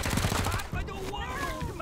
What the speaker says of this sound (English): Let's go for an attack on the light machine gun.